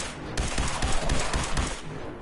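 Gunfire during a headshot attempt in the video game Fallout 4: several loud shots in quick succession, each cracking over a dense layer of game noise.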